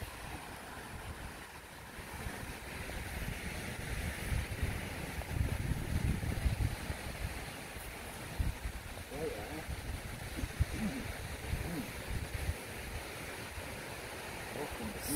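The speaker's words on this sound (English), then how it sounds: "The water is so noisy." Steady rushing water noise with wind buffeting, continuous and fairly loud throughout, with occasional faint voices underneath.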